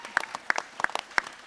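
Applause from a small audience at a GunCon 2023 creator Q&A panel, a few sparse, distinct claps heard close and fairly faint with no talking.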